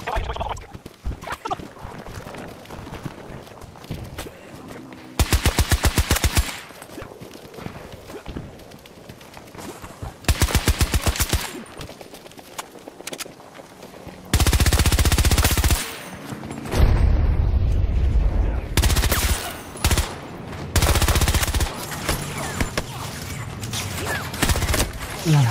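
Several bursts of automatic fire come from a P19 rifle in the video game Battlefield 2042, loud, rapid and clipped, separated by quieter gaps of game sound and spoken commentary.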